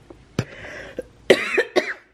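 Several sharp coughs close by, spaced irregularly, with a raspy throat sound between bursts.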